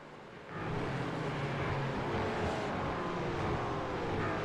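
Race cars battle in the mid-pack on the Daytona road course, a dense, loud wall of engine roar swelling in after a brief quieter start and holding steady throughout.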